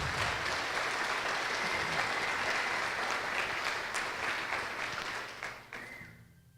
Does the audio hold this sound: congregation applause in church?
yes